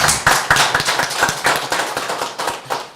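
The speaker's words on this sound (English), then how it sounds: "Let's give them a round of applause." Audience at a Brand Lesotho investment and prosperity event breaking into a round of applause, a thin crowd of separate claps with distinct sharp hits, fairly close and alone with no talk over it.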